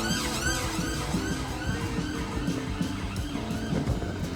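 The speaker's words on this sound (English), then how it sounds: "siren as usual" Emergency vehicle siren wailing along an Edinburgh city street, its rising and falling tone steady and fairly loud over continuous traffic and street bustle for the whole stretch.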